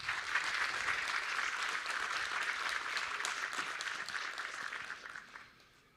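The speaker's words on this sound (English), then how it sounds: "please clap your hands." Sustained applause from an audience at a Space Week 2022 event in Brno, a dense even patter of many hands clapping together that carries on for several seconds and then fades away near the end.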